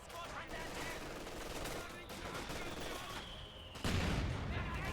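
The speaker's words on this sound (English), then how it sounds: "Volley from the Grenadiers." A rifle volley from German Grenadiers in the Company of Heroes 2 video game, a dense, continuous crackle of gunfire within a busy battle mix that swells louder near the end.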